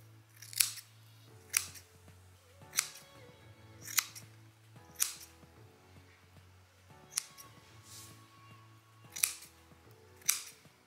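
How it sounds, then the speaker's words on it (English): Sharp scissors snip repeatedly through a horse's tail hair at a steady, unhurried pace, about a dozen crisp cuts over a low hum, close and clear. "I've just grabbed some sharp scissors and a rake, and I'm just going to tidy it up"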